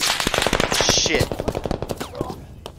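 Rapid machine gun fire rattles in the combat game Squad, a loud close burst of dense shots that thins into scattered rounds.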